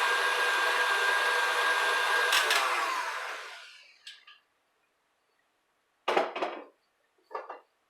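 Electric mixer whirring steadily through homemade pizza dough, a loud continuous motor drone for about four seconds that winds down and stops, followed by a few brief clinks and scrapes of the bowl.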